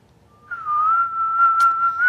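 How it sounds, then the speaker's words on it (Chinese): A person whistles one long, clear, sustained note that wavers slightly and rises a little at the end, loud and close, with no talking over it. "那吹口哨呢？"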